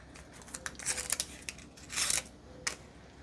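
A fresh razor blade scoring slashes into a greased loaf of homemade crusty bread dough, giving several short, crisp scraping cuts in quick succession, close and fairly quiet.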